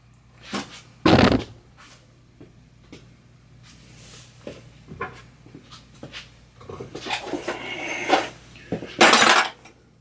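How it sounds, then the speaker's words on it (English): Set screws removed from the quill of a Shoptask 17 20 XMTC mill, with sharp metallic clinks, rattles and tool scrapes arriving in irregular bursts, close up and fairly loud against quiet shop background. "if we remove these set screws"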